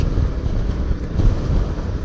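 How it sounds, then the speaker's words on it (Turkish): Wind buffets the microphone of a rider on a motorcycle trip in a low, continuous rumble that rises and falls slightly, loud and close, with no other sounds. "Belirgin vaziyette rüzgar"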